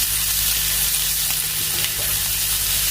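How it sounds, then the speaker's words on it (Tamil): Onions sizzle loudly in a pan while being sautéed for a manathakkali keerai greens dish, a dense, constant close-up crackle and hiss with faint stirring underneath. "வெங்காயம் கொஞ்சம் வதங்கட்டும்"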